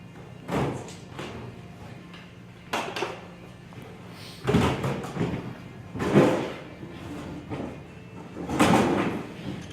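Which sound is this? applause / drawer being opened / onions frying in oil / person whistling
drawer being opened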